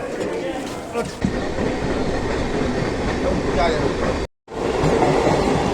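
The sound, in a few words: train running on rails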